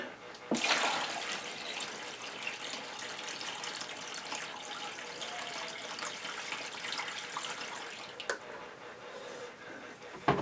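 Water pours into a plant tray to flood it in an indoor garden where tomato seedlings sit on a heat mat, a steady running splash lasting several seconds before it tapers off.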